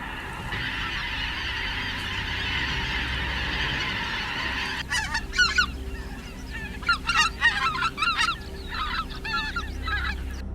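Wild geese in Texas honk in a loud, steady chorus, with a dense mass of calls at first giving way to sharper, separate honks from nearby birds.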